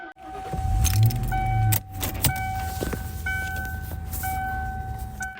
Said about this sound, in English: So we're going to start this one up. We'll listen to the engine, the idle